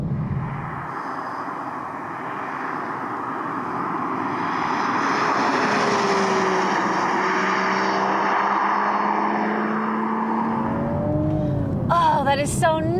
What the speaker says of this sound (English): You can just hear the little turbo sound, the little spool